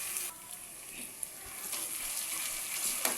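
Paste of ginger, garlic, green chili and tomato frying in very hot oil in a pot, a steady broad sizzle and crackle holding at moderate level throughout with no voices.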